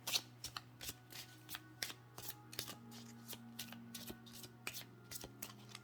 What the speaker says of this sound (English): Let's get a couple of healing angel cards here for you.